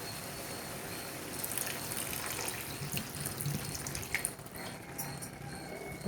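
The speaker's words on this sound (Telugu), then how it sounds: "ఇప్పుడు కొంచెం వాటర్ పోసుకుందాం." Water is poured into a spicy gongura and raw prawn curry cooking in a pot, making a faint, continuous splashing rush that runs for several seconds without a break.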